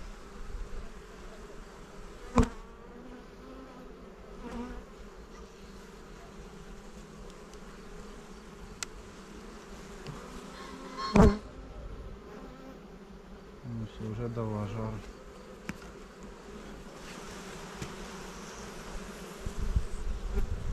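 Steady, dense buzzing of many agitated honeybees swarming close by at a hive, with a few sharp knocks and a brief low rumble partway through.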